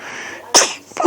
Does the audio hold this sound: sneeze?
yes